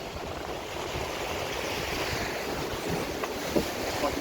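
Raft boat on the Congo River Rapids ride at Alton Towers, drifting through churning water with a steady wash and rush of wind, plus a couple of faint knocks near the end.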